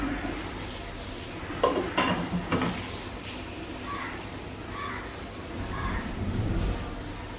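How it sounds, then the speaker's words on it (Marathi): Tomatoes with a pinch of turmeric being sautéed in a pan, a steady soft sizzle and rustle with a few sharp spoon-against-pan scrapes and clinks in the middle. "आपण असं हे जरा परतून घेणार आहोत"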